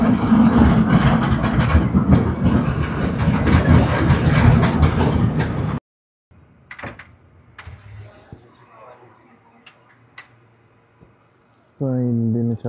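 A San Francisco cable car rattles and rumbles loudly along its track for several seconds, then drops to quieter clanks, creaks and scattered knocks before a bell-like ringing tone starts near the end.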